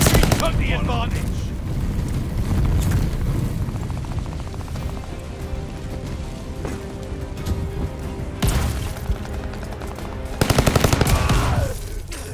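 Gunfire in the Call of Duty Vanguard video game, including shotgun blasts: loud broadband bursts and rapid automatic volleys, with a dense rattling stretch near the end, layered over game noise and some talking.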